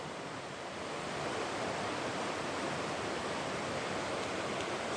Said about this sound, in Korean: 물소리가 바위벽에 부딪히가지고 음 이렇게 소리가 들립니다